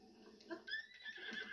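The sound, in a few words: horse neighing in a video game village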